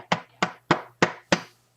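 A rawhide mallet hammers coated wire five times in a steady rhythm, each blow a crisp, close strike with a quick decay, with a low hum underneath.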